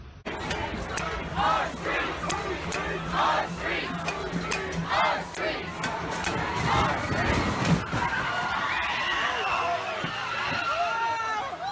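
Panicked crowd shouting and screaming in the street after a car ploughs into people, a dense, loud wash of overlapping voices with rising cries that never lets up.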